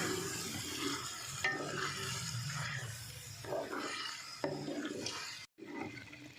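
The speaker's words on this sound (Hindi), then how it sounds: "अब कलेजी डाल देंगे इसमें। और इसको इसी तरह फ्राई करते रहेंगे।" Beef liver sizzles in masala in a pan while being stirred, a low frying hiss with irregular scraping and clatter from the spoon, quiet and close, a brief drop to silence near the end.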